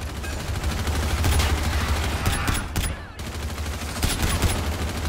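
Trencher gun shots fire one after another in a video game, sharp, loud cracks spaced a moment apart over a busy background of game noise.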